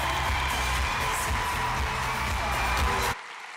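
Audience applause and cheering at a live awards ceremony, a dense, steady crowd sound with scattered whoops that cuts off abruptly near the end.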